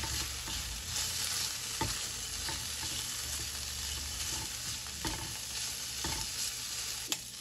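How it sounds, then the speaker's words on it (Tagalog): Pork frying in hot oil with a steady sizzle and scattered sharp pops and crackles, some louder snaps standing out, heard alone without voices. "At nagmamantika na po itong ating pork mga kabeshi."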